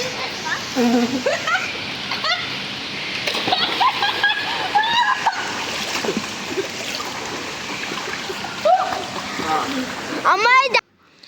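Water splashing and sloshing in a swimming pool in Bangkok, with voices and shouts over the steady splashing and a louder burst of splashes near the end.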